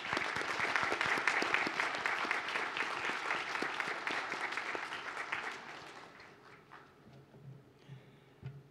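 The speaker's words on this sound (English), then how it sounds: "Let us give a round of applause to the graduates who have just been presented" Applause from an audience of graduates' guests at a university degree congregation, a dense steady clapping that fades gradually toward the end.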